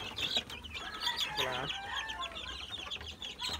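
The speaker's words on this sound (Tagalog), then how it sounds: "Ipapasilip ko lang sa iyo yung nag-isang sisiw dito" A hen clucks in a backyard alongside a single young chick, its repeated clucks heard close and fairly faint, with a brief burst of higher peeping calls in the middle.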